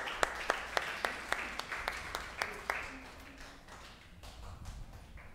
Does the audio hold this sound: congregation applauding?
yes